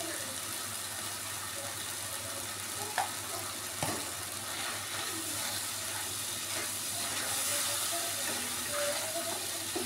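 Water added to spices frying in a pan while cooking jackfruit with prawns: a steady, dense sizzle and hiss fills the whole stretch, with a few faint clinks of utensils near the start.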